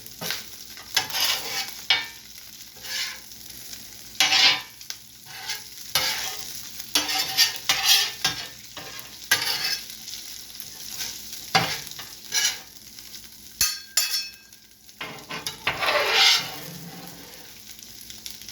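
Butter sizzles on a hot steel griddle for sloppy joes, with a steady frying hiss broken by repeated scraping and stirring strokes from a spatula, close and fairly loud throughout.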